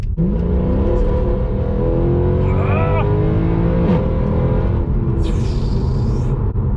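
A Mercedes C63 AMG engine roars loudly up close and accelerates hard onto a dual carriageway, its pitch climbing through several gear changes with a continuous rumble underneath.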